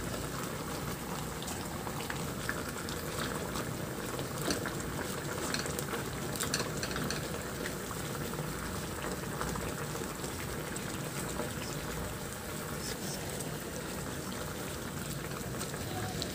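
Coconut milk with pechay simmering in a pot, a dense, continuous bubbling and sizzling crackle that stays steady and fairly loud throughout.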